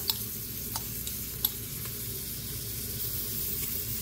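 Garlic sizzles in a pan in a steady, fairly quiet hiss, with a few sharp clicks of a utensil stirring and tapping, and no talking.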